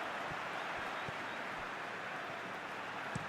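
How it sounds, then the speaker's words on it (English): Crowd in good number and in good voice at a Crystal Palace football stadium before kickoff: a steady, dense roar of massed voices that stays level throughout, with a few faint thumps beneath it. "the crowd, who are here in good number and indeed in good voice"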